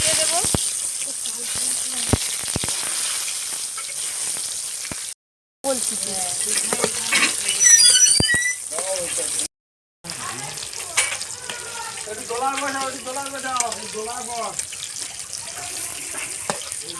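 Eggplant sizzling in hot mustard oil in a wok, a steady frying hiss with stirring clatter, running tap water and a few pauses, while voices talk over it.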